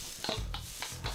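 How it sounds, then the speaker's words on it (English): Rice with egg and spice frying and being stirred in a hot wok, with soft scraping strokes repeating every few tenths of a second over a steady low sizzle, close and fairly quiet. "Now we start toasting that and frying that and mixing that egg"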